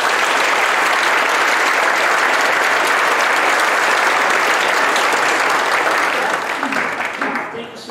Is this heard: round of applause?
yes